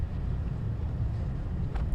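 Strong, cold wind buffets the microphone outdoors under clear skies at a police funeral procession lined with cruisers, a steady low rumbling gust noise with no voices.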